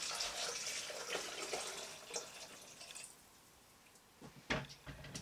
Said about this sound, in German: Dann kommen 800 Gramm Wasser dazu.